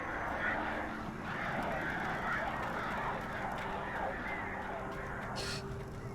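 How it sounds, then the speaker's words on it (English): Birds honk and call faintly over a broad outdoor ambience in Alan Wake Remastered, their cries scattered through a steady wash of background noise. "I hear birds."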